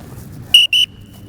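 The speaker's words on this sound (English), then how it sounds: "Double whistle," Two sharp, loud blasts of a coach's whistle at sports practice, the second slightly longer, with faint background noise before and a thin tonal tail after.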